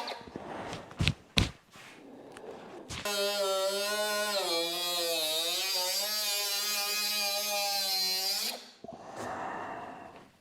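A 4.5-inch angle grinder on Porsche 911 rust repair spins up into a loud, sustained whine for about six seconds, then winds down, with clattering handling noises before and after.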